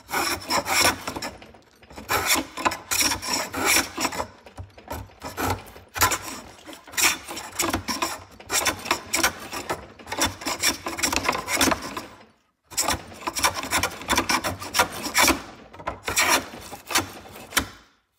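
A Samson block plane being sanded smooth by hand, giving loud, continuous rasping strokes in a steady back-and-forth rhythm with a few brief pauses, close up and alone.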